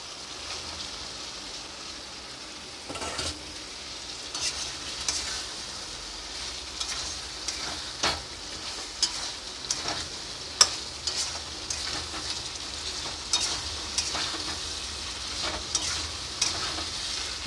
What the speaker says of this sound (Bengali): এবার আমি ভাজা চিকেনটা ছিল, ভাজা চিকেনটা দিয়ে দেবো।